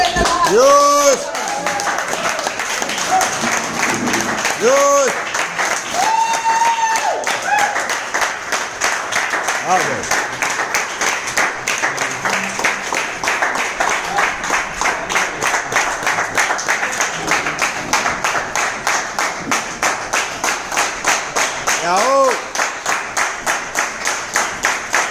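A crowd at a business gathering breaks into steady rhythmic clapping that grows into continuous applause, loud and close, with a voice calling out over it near the start and again later.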